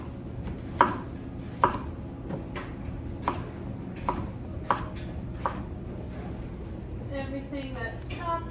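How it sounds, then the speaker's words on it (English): Onion, potato, turnip and carrots being chopped with a knife on a board, a run of sharp separate thunks spaced about a second apart over a steady low background hum. "So I need onion, I need potato, I need turnip, all cut up."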